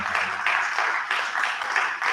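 Audience applause for a speaker at a research workshop, a steady wash of many hands clapping at moderate distance, sustained for a couple of seconds.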